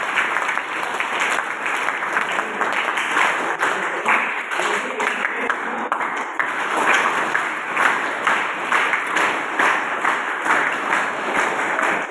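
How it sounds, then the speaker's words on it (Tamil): Sustained applause from an audience honouring sanitation workers at a government school event, steady rhythmic clapping from many hands continuing without a break, loud and fairly close with no talk over it. "அவங்களுக்கு ஒரு கைத்தட்டம் கொடுத்துருவாங்க"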